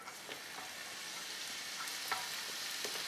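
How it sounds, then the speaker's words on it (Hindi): Chopped garlic and ginger frying in oil in a pan on a gas stove, giving a faint, steady sizzle with a few soft stirring clicks. "अब इसके अंदर सबसे पहले हम लहसुन और अदरक जो हमने काट कर"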